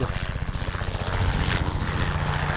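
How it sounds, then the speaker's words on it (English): A helicopter flies over the frozen ice of Lake Baikal near Irkutsk, its rotor making a steady, rhythmic thumping pulse over a broad engine roar that stays fairly loud and constant throughout, with no talking. "Oh, there's a helicopter."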